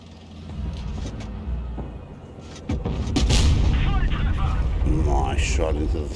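A tank gun firing in World of Tanks Blitz, from a Grille 15 tank destroyer: a sudden heavy boom lands partway through, following rumbling engine noise, and a deep roar carries on afterward, with game voices mixed in.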